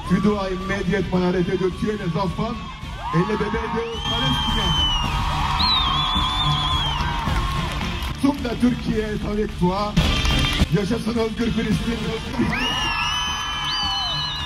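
Cheering and shouting rally crowd at an event where a singer speaks out about Gaza, loud and continuous, with voices calling out slogans through it.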